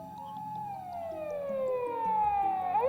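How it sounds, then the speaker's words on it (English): A police patrol car siren in the visual novel Steins;Gate wails with a descending then rising tone, growing steadily louder as if approaching at night, with no talk over it. "a shrill siren shatters the night."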